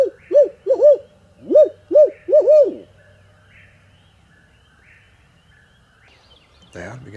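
Owl hooting in timber during a spring turkey hunt: a near, loud series of about eight rhythmic hoots in two bursts, then quiet woods with a faint rustle at the end.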